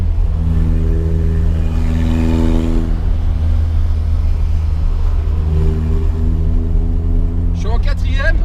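A Renault Alpine A110 1600 SX with no power steering is driven in fourth gear, its engine a steady, loud low drone with rising and falling harmonic tones, while people talk inside the car.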